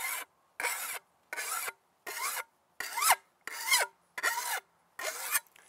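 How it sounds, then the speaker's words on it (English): A mill bastard file rasps along the edge of a garden spade in eight even one-way strokes, each about half a second, separated by short silences, close and clear with no talking. "I take a standard mill file, mill bastard file, and one direction. You don't drag it back and forth"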